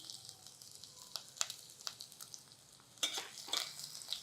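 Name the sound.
garlic and ginger pieces frying in a pan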